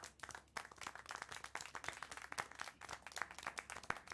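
Hand clapping in the video game Syberia: The World Before, a fairly quiet, irregular run of sharp individual claps spread across the whole stretch, with no talk over it.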